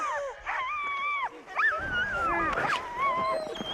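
Sled dogs whining and yelping in high, sliding cries, several overlapping calls close by over a sled run, with a person's voice urging them on in the background.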